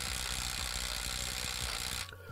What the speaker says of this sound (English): I'm going to test to see if the brush impact driver will be able to remove it